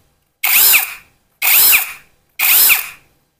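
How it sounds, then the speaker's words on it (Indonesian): Three even bursts of an APR AP85 Pro brushless cordless drill, a high smooth whine rising and cutting off, loud and close with silence between each run. "Untuk APR 85 Pro ini sudah brushless."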